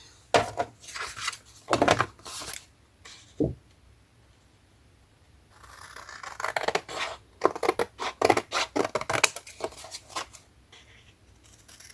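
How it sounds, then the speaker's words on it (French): Paper edges being trimmed with scissors while making a Christmas album, several loud, close snipping and rustling bursts separated by quiet pauses, with no talk. "je vais couper les bords"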